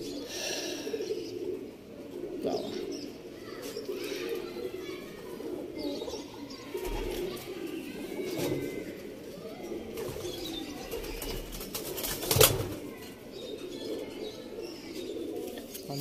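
Pigeons coo softly and continuously in a loft, fairly faint, with a sudden sharp knock partway through.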